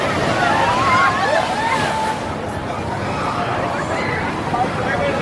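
A theme park ride barge drops down into water with a loud rushing splash and churning surf, heard over crowd chatter and voices nearby.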